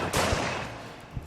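Gunfire in the video game Crowded. Followed., two sharp shots about a second apart, the first followed by a short rattling tail, loud and close with no talk.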